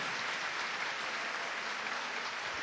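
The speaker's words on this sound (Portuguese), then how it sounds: "Aplauda essa verdade, meu irmão" Congregation applauding during a Canção Nova Catholic Mass homily, a steady, even wash of many hands clapping at moderate volume with no voices over it.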